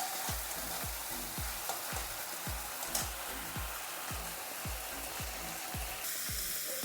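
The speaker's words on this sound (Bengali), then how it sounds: "এখন দেবো আদা আর কাঁচা লঙ্কা, এগুলো দিয়ে ভালো করে একটু কষিয়ে নেবো।" Ginger and green chilies fry in a pan, a steady close sizzle and hiss with a regular low thumping pulse beneath it, no voices.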